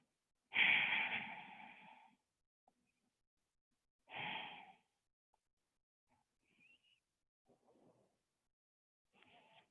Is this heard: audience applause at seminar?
no